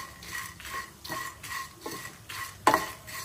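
Dry coconut and black pepper frying and being stirred in a pan, with soft rhythmic scraping strokes under a low sizzle and one sharper metallic clack near the end.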